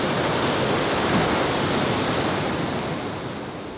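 Ocean surf rolling off the Los Angeles coast, a dense, continuous roar of breaking waves with wind, loud and steady throughout without pause.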